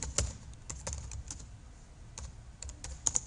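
Typing on a computer keyboard while copying text into Notepad, a run of sharp, close key clicks at an uneven pace, fairly quiet with no voices.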